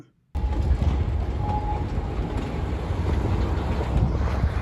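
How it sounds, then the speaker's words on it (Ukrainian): Carpathian narrow-gauge excursion tram rolling along its track, a steady loud low rumble with wind buffeting that starts abruptly after a brief silence and continues unbroken. "І зараз буду подорожувати оцим трамвайчиком. Ось такий трамвай."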